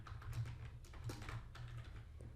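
Text is typed on a computer keyboard at a desk, making soft, quick, irregular key clicks with a faint low hum underneath and no speech.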